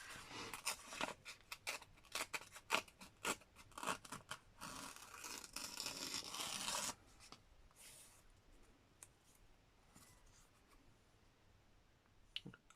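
Paper cards for mixed media artist trading cards being torn by hand: a quick run of crisp, close ripping and crackling bursts over about seven seconds, then a much quieter stretch with only faint rustling.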